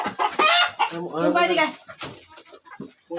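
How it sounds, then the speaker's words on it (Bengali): Chickens on a rooftop chicken farm cluck and squawk close by, with one drawn-out call in the middle and scattered shorter clucks, while people talk nearby. "এই ছাদের এই পাশে আবার মুরগি পালন করে"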